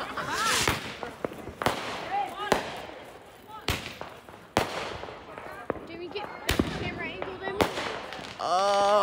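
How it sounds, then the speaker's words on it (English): Neighbors' 4th of July fireworks and firecrackers go off in a chaotic backyard scene: repeated sharp bangs and crackling bursts at irregular intervals, some near and loud, with voices talking in the background between the blasts. "Neighbors having fun over there."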